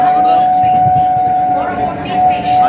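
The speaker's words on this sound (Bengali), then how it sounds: "হাওড়া বর্ধমান কর্ট লাইনের লোকাল ট্রেন আমি ধরে নিয়েছি" Inside a local train on the Howrah-Bardhaman chord line, a steady rumble runs beneath a sustained whining tone, with people talking over the noise.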